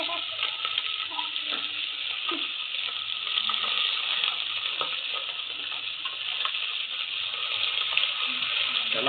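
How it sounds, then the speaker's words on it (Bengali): Pieces of tilapia fish fry in hot oil, giving a continuous bright sizzle with scattered small crackles and pops. The sizzle stays steady and close throughout. "আরো কিছু ভাজা করা হচ্ছে"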